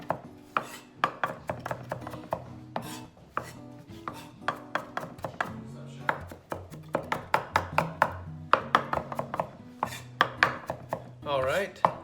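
A knife chops celery on a cutting board for crab cakes, a long run of quick, steady knife strikes close up, with short pauses between bursts and no talking.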